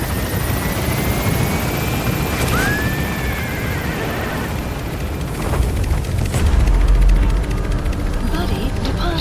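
A helicopter in the game Metal Gear Solid 5 lifts off with a loud, steady rotor roar that swells near the end with deep rumbling, while a voice speaks over it.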